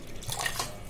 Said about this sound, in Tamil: ஐஸ் வாட்டர் ஊற்றிக்கலாம்